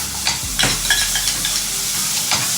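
Ginger-garlic paste hits hot oil in a pan with browned onions and fries with a loud, busy sizzle, while a spoon stirs it in repeated scraping strokes, with no talking.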